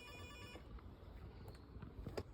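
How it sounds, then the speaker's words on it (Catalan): A phone rings out while a call is being placed at an outdoor rock concert festival, a faint repeating ring tone heard over low background rumble with no talking. "Truco a la Núria aquesta"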